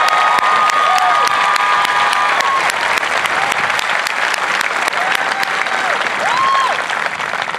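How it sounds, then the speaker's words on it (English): A large crowd at an Air Force basic military training parade claps and cheers continuously, with scattered whistles and shouts over the dense applause. "You hear that applause."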